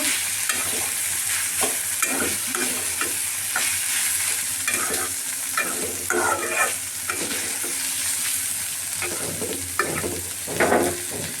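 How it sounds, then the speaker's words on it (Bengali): Coriander leaves frying in a pan with steady loud sizzling and repeated stirring scrapes throughout, with no talking. "ধনে পাতা দিয়ে দিয়েছি, আমি খুব ভালো করে ভেজে নেব।"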